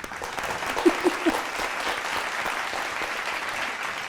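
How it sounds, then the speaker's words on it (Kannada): An audience on a televised singing reality show claps after a song, a soft, brief burst of applause with a few sharper claps standing out near the start. "ತಟ್ಟಿ ಚಪ್ಪಾಳೆ"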